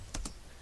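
Two quick keystrokes on a computer keyboard while a telnet command is typed at a PC command prompt, close and fairly faint, clicking alone with no talk.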